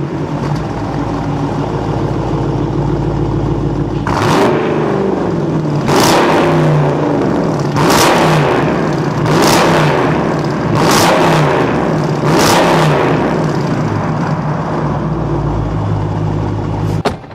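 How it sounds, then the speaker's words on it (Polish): A naturally aspirated V8 in a Dodge Challenger idles with a deep rumble, then is blipped hard about five times in quick succession, each rev roaring loud and close before settling back to idle. "wolno ssące V8, które ryczy przepotężnie"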